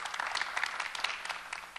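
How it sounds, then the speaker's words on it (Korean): Audience at an academic colloquium on worship clapping to welcome a professor as speaker, a dense, even burst of applause filling the hall, brief and without talk. "박수로 맞아주시고"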